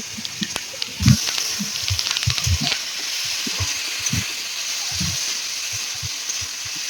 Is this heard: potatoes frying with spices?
yes